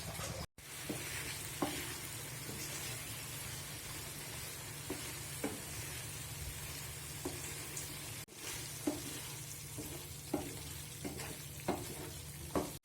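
Pointed gourd (potol) and spices sizzle steadily in a pan after a small cup of water is added, a loud continuous hiss and crackle with occasional stirring scrapes and a couple of brief breaks.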